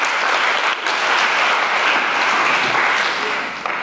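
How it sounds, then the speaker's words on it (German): Audience applause for a young woman volunteer at a family lecture on high-resolution light microscopy: steady, dense clapping from a full hall, loud and unbroken for nearly four seconds before easing slightly at the end. "da hat sich die junge Dame schon einen Applaus verdient"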